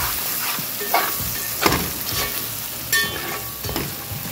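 Onions sizzle and fry in a pan for a fish curry while a utensil stirs them, giving a steady crackling hiss broken by a few louder scraping strokes.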